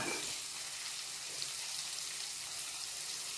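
Onions frying in oil for pepper kuzhambu, a faint, steady hiss of sizzling that runs evenly throughout with no voices.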